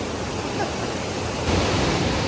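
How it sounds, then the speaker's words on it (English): Constant roaring rush of Mae Ya Waterfall in Chiang Mai, Thailand, broad and steady like heavy noise, with no pauses or other sounds standing out. "It's bloody beautiful here at the waterfall."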